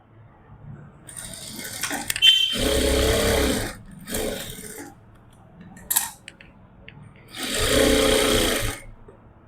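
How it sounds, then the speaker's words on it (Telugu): A sewing machine stitching the shoulder seams of a kurta runs in several separate bursts of rapid mechanical whirring, with short pauses between them and no talking. "షోల్డర్స్ అయితే మనం ఇప్పుడు స్టిచ్చింగ్ చేస్తున్నాం చూడండి"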